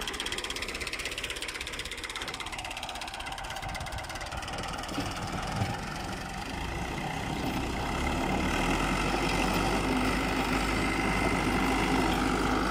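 A Fiat 640 tractor engine runs a rotavator in a field, a steady loud mechanical roar with gear and ratchet clatter that grows heavier and louder partway through as the load comes on.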